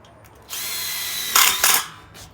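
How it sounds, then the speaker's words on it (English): A tek screw gun drives a tek screw into a Colorbond slat fence panel, a loud close whirring motor run that strains higher as the screw bites, then two short bursts before stopping. "get yourself a tech gun and some of the tech screws which are provided. And then what you want to do is put one at the top"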